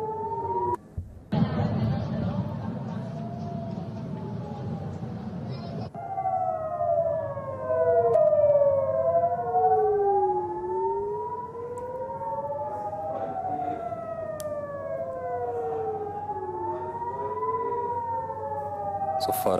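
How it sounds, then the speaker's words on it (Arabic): Several wailing air raid sirens in Tel Aviv rise and fall in overlapping sweeps during a rocket barrage, loud and sustained, after a brief burst of noise at the start. "صفارات الإنذار تدوي في تل أبيب وضواحيها الشمالية"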